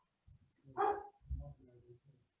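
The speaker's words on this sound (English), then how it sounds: "That's my dog." A dog gives a short, muffled bark followed by a couple of lower grumbling woofs, faint and somewhat distant in a quiet room.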